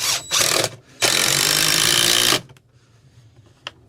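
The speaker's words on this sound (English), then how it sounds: "we're going to screw into the ends of these joists right here before we put that in" Power drill driving screws into the ends of wooden joists while a loft ladder is installed and the hatch extended, heard as a short whirring burst followed by a longer, louder sustained run of drilling before it cuts off.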